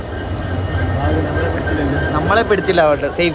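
A long goods train hauled by several locomotives rolls along a railway line near Dudhsagar Falls, a steady rumble with faint clatter running throughout while people talk over it.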